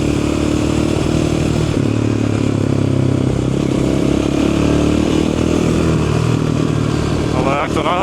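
A loud, close Yamaha Raptor 700R ATV engine drones and rumbles steadily throughout on a dusty road, with rough crackling pops from the exhaust and a brief voice near the end.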